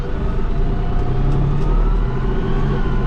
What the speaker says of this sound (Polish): Ciągnik ruszył.